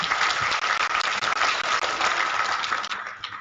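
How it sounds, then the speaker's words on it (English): A congregation at a combined padre hour gives a round of applause for the Reverend Fathers, with dense, steady clapping from many hands that carries on throughout and tapers off slightly at the end. "Shall we once again give the Reverend Fathers another round of applause?"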